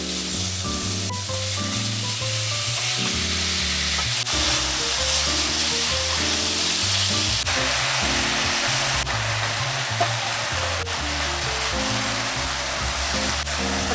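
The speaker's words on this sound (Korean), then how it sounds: "이제 달궈진 팬에 오일을 조금만 두르시고, 아까 재워놨던 고기 중에 파인애플은 빼버리시고 고기만 구워주시면 됩니다." Marinated meat for a Philly cheesesteak sizzles steadily in a hot, lightly oiled pan, a loud continuous close frying hiss throughout with music playing underneath and no talking.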